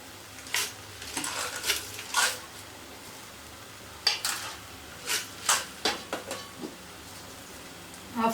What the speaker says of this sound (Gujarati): આવી રીતે ઘીમાં શક્કરિયાને શેકીશું